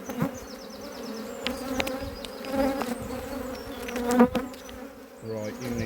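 Honey bees buzz steadily and close at an open hive while frames are worked and bees are shaken into a nucleus box, with handling knocks and scrapes throughout.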